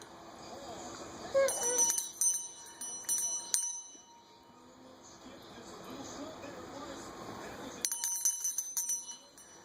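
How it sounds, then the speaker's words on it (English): A small bell, held by a string and rung by a young child, gives a burst of bright, bouncing rings, then falls silent for a few seconds before another quick flurry of rings near the end. "Ring the bell."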